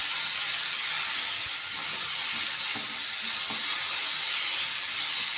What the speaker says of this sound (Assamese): গেছৰ ফ্লেমটো কম কৰি সেইখিনি পানীতে অলপ সময় সিজিবলৈ দিম